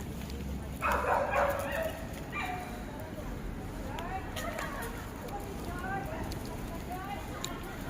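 Dogs bark and yip outdoors on a morning walk, with a few short, somewhat distant barks mixed into steady background noise while people talk nearby.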